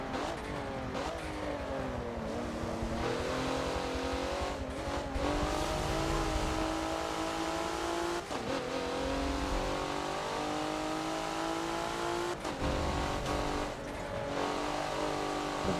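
Race car engine lapping Road Atlanta in the Forza racing game, loud and continuous, revving up through the gears with sharp dips at each shift and lift of the throttle.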